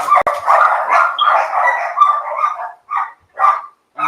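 Dogs bark loudly and close by in a rapid run of sharp barks, then a few spaced yips with short gaps between them.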